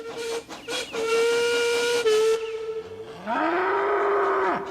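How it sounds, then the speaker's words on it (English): A loud, sustained steam whistle blows for about two seconds, then a second long whistle sweeps up in pitch and holds before cutting off, with a low mooing mixed in. "Duncan whistled as loud and as long as he could."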